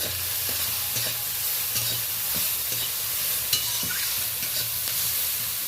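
Pointed gourd seeds fry in a pan with a constant sizzle, while a spatula scrapes and stirs in a loose repeating rhythm, close and unaccompanied by speech.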